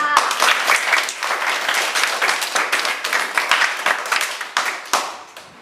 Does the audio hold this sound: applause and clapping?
yes